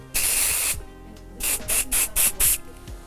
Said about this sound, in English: applying our first hero product, the Airy Texture Spray